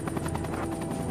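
A Huey military helicopter's thick main rotor beats in a steady, rapid whop over a loud engine drone, with no voices present.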